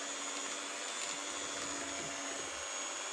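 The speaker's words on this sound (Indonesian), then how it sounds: "Di sini aku pakai SKM, langsung di mixer sampai halus seperti ini." An electric mixer whirs steadily and evenly, blending cake batter made with sweetened condensed milk, a continuous close motor hum without any voices.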